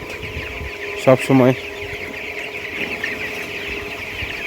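Chickens on a poultry farm cluck in a couple of short, loud bursts close by, set against steady background farm noise while a person speaks briefly.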